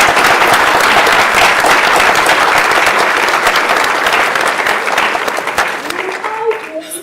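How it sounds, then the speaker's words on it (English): Loud, dense round of applause from an audience at a talk, sustained for several seconds before thinning out, with a few voices emerging as it fades. "Let us give her a well-deserved round of applause."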